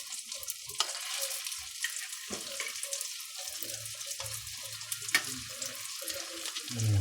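Lumpiang shanghai spring rolls frying in a pan, a soft crackling sizzle with scattered pops and a few stirring clacks, fairly quiet and close.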